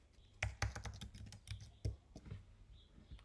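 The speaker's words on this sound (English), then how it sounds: "we will type in the Kahoot site, it's kahoot.com." Typing a web address on a computer keyboard, soft close clusters of key clicks in an irregular burst, quiet and uncovered by any talking.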